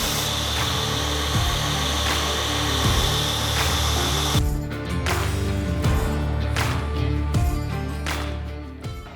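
A belt grinder works the flats of a hunting knife blade to 120 grit, a steady loud abrasive whine with rhythmic passes and periodic scraping strokes, continuing alone without talk.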